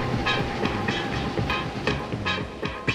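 Passenger train on the Hong Kong airport rail line, riding beneath the harbour and across bridges toward the terminal. A steady, loud rumble of the carriage carries repeated rhythmic wheel clacks and rattles.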